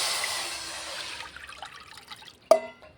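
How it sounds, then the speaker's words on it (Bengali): A mug of water poured into a pan set on a gas stove, a steady splashing rush that fades out, followed by a sharp metallic knock near the end. "এবারে এই মগটার 1 মগ জল দিয়ে দেবো।"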